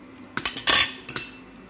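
Forks and other cutlery clink against plates during a lunch of fried eggplant, a few bright, sharp taps in quick succession, close and clear, with a short pause before two more.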